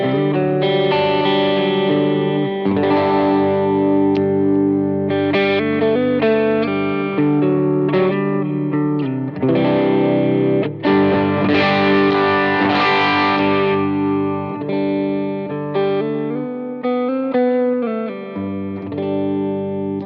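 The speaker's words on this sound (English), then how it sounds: "this is going to be your clean tone in the humbucker setting." Electric guitar with a humbucker pickup playing a clean tone through a Line 6 Helix amp modeler, sustained chords and melodic lines ringing out steadily, alone and fairly loud.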